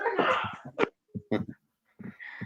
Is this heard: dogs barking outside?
yes